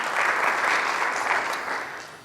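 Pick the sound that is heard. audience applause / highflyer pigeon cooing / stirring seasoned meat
audience applause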